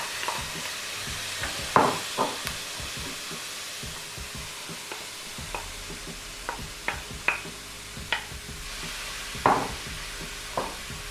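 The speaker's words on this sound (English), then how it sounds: "Now I'm ready to add the finely chopped leek and the grated carrot. Cook those for another 5 minutes or so." Finely chopped leek and grated carrot cook with softened onions and garlic in a pan for a vegetarian lasagne: a quiet, steady sizzle broken by scattered sharp taps and scrapes of stirring, no voices.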